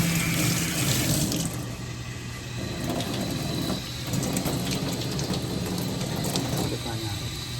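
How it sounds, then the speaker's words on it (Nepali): Water pours steadily into a mixture of ground onion and garlic for a pork dish, a continuous splashing gurgle close by that holds at an even level for several seconds. "पानी हालेर"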